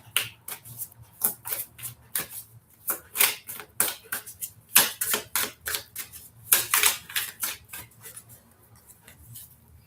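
Oracle cards are shuffled by hand in quick, irregular bursts of crisp riffling and slapping, close and fairly quiet, with brief pauses between runs.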